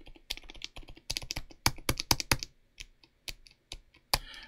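Muffled, soft keystrokes from a keyboard fitted with Outemu Tom silent tactile switches, typed in irregular quick bursts and single presses, close and fairly quiet, with no talking.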